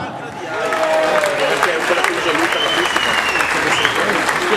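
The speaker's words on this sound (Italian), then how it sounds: "Un applausone al Beppi" An audience at a live music show applauds a performer, a dense, steady wash of clapping from a crowd that swells and holds at full strength, with voices and cheers mixed in.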